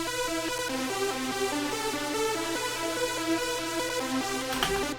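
Split MIDI synth part from a dark electro track in a 90s tribute style, with layered sustained tones and stepped melodic lines playing steadily at an even level for the whole stretch, with no voice.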